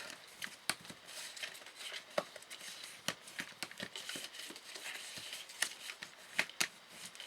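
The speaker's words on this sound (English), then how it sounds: "So fold them into the centre, and then fold back on itself." Cardstock is folded and burnished for a fun fold card, giving soft, close rustles and crisp little paper snaps scattered through a quiet stretch.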